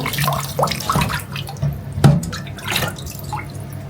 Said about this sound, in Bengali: এই যে আম সুন্দর করে ধুচ্ছি, ধুয়ে তারপরে কাটবো